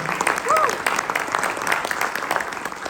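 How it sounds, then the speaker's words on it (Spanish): Applause for the organizers at the ETH Guatemala community event, a steady crowd clapping over a few seconds mixed with a speaking voice. "un aplauso a la organización"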